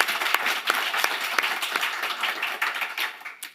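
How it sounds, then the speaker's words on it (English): A wine festival audience in a lecture tent breaks into applause, a brisk wash of many hands clapping close and continuous. "I think we should clap that one."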